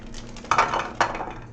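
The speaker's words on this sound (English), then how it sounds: "Walnuts, we're gonna put those in the small pans in the back." Walnuts tipped into small pans at the back of a kitchen stove for a light toast, giving two sharp metallic clinks and clatters about half a second apart over a low steady hum.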